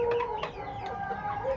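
Young hens about two and a half months old cluck in short repeated bursts in a free-range farm pen, close but soft, with faint background noise.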